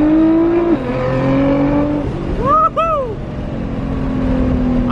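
A tuned 700-plus horsepower Nissan GT-R launches hard, its loud engine note climbing then dropping through quick gear shifts, rising again to a sharp rev peak close by.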